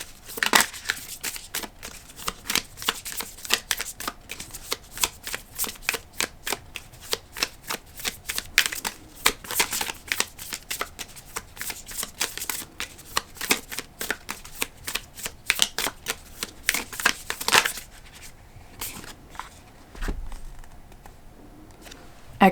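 Cards shuffled over and over for a tarot-style reading, a dense run of crisp riffling flutters close to the microphone that ends in a quieter stretch near the finish.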